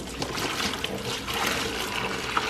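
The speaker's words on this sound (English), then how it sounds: "Here, I just have some plain old H2O with a little bit of Dawn dish soap. And we're gonna pour that." Hot water mixed with Dawn dish soap is poured into a clear plastic container, making a steady, close splashing rush for a couple of seconds without any speech.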